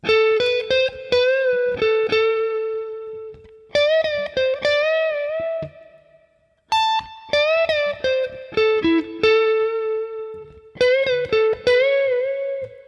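Electric guitar playing a distorted lead lick from a song's solo, with string bends and quick note runs in four phrases, a short pause in the middle, no talking.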